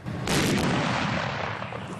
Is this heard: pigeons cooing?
no